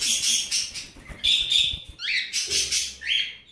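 A tame cockatiel chirps close by in a series of bright, repeated calls and short rising whistles, loud and clear with brief pauses between phrases.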